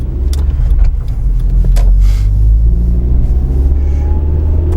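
A manual-transmission car engine idles and runs steadily just after being restarted from a stall, a loud, continuous low rumble that fills the whole stretch with no voices.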